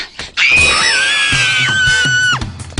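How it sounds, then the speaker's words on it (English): A loud, sustained high-pitched scream from a cartoon character in an English-dubbed anime, rising sharply and holding steady for about two seconds before cutting off, with faint background music. "What are you screaming about?"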